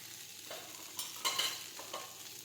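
Leftover cooked rice sautéing in a pan, giving a soft sizzle broken by a few scraping stirs, close but quiet, over roughly two seconds with no voices.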